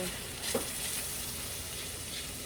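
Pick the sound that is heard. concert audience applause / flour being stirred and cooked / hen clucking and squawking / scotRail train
flour being stirred and cooked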